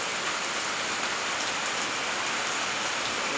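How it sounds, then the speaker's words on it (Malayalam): Heavy night rain pours down in a dense, constant hiss, loud and close, with no voices. "ഭയങ്കര മഴയാണ്"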